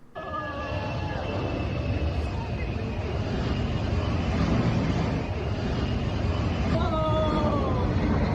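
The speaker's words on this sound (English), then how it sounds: "plane flew right through the middle of a city" Very large airplane flying low over a city in Australia during an annual air show, a loud sustained engine roar that holds steady throughout, with a faint murmur of a crowd beneath.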